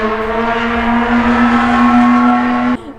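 A car with a Nissan VQ-series engine revs nearby, giving a loud, steady, high engine drone held for almost three seconds before cutting off abruptly.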